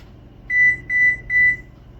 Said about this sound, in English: It's just our stove letting us know that it's heated up to the 350.